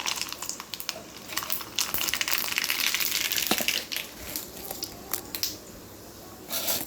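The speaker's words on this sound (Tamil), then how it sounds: "கடுகு போட்டு நல்லா பொரிஞ்சோடனே சோம்பு நல்லா பொரிய விடுங்க" Mustard seeds splutter and crackle in hot oil in a pan, a continuous dense popping sizzle at close range with sharper individual pops, and no talk.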